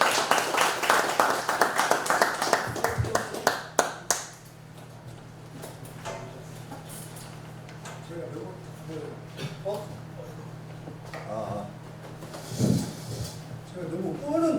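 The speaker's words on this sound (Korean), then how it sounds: "강의를 들어가겠습니다. 박수 부탁합니다." Audience applause in a lecture hall before a local history lecture, a dense clatter of many hands for a few seconds, then fading into quiet room noise with scattered talk.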